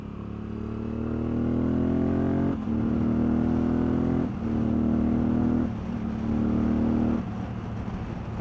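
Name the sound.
race motorcycles accelerating past at the NW200 road race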